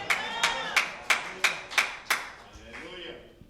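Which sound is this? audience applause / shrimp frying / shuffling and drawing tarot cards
audience applause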